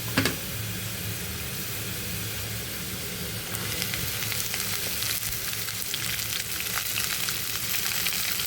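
Potatoes and green garlic fry in a pan with a steady, continuous sizzle and crackle, growing slightly louder and busier partway through, close and alone with no voices.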